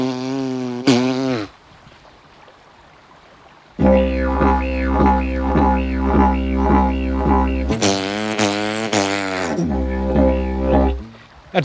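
A didgeridoo droning with a deep steady fundamental while rhythmic tongue and voice pulses mimic a kangaroo hopping, bouncing in a regular repeating pattern, loud and close, with a brief opening burst before a quiet pause.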